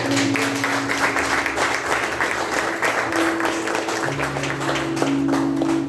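Congregation applauding in a Portuguese-language church service, a dense continuous wash of many hands clapping with a low sustained musical tone beneath it throughout.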